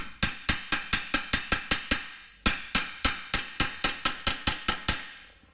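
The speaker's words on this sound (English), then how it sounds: "Now I'm using the hammer and I'm hitting the actual arm, nowhere near the ball joint" A hammer taps the steel lower control arm of a Nissan Rogue in two fast, evenly spaced runs of sharp metallic strikes, loud and close, with a short pause between runs.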